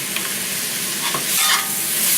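Sliced onions sizzling loudly in a hot pan for pepper steak as soy sauce goes in, a steady close crackling hiss that swells briefly midway.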